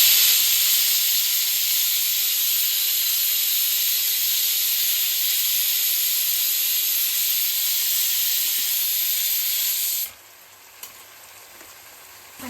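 Chicken for a gravy-style fry sizzles and hisses in a hot pan, a loud, steady crackling close by that cuts off abruptly near the end, with no talking.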